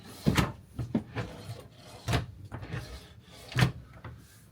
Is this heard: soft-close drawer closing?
yes